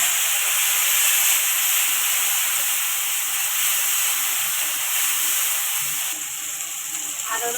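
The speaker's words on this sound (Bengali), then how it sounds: "পেঁয়াজ বাটা আছে আর দুটো টমেটো আছে, তেল গরম হয়ে গেছে, দিয়ে দিচ্ছি।" Onion paste and two tomatoes hit hot oil in a pan for a green-banana curry, giving off a loud, steady hiss and sizzle close by that eases slightly toward the end.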